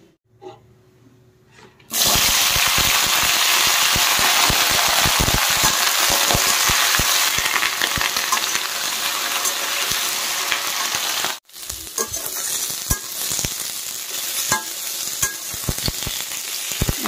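Potatoes fry loudly in hot oil, a steady, close crackling sizzle that starts abruptly after a quiet moment, briefly cuts out, then resumes with scattered pops.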